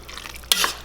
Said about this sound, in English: So we're stirring that up